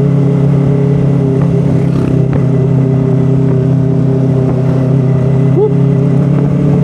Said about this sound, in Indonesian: Oke lah, sedikit geber dulu.